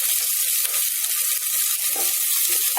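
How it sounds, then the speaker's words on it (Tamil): Dried red chillies and chopped green chillies sautéing in hot oil with onion and curry leaves, a steady close sizzle and crackle running through the whole stretch with faint stirring, no voices. "இதை நல்லா வதக்குங்க."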